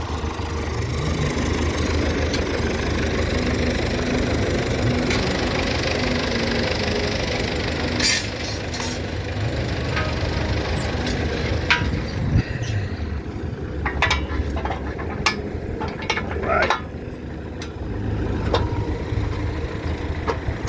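An MTZ tractor engine runs steadily out in a field while sowing soybeans, a continuous low drone with some knocking that stays loud throughout, with occasional brief clicks and rattles in the later part.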